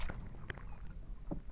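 A boat travels along a backwater lake with a quiet, steady low rumble of motion and water, broken by a couple of soft knocks, faint and with no one talking.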